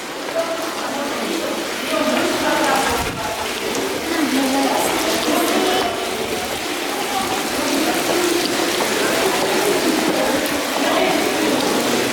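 Steady rushing and splashing of a nonstop fountain at the Zwinger Palace in Dresden, continuous and fairly loud, with voices faintly in the background.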